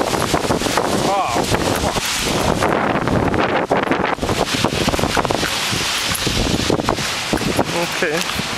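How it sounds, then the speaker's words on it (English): Strong gusting wind during Hurricane Irene, with heavy buffeting on the microphone and rushing noise that rises and falls. A voice speaks briefly over it. "Waiting for this wind."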